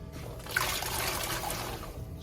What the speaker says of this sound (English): All right, so we got some water running in the sink here.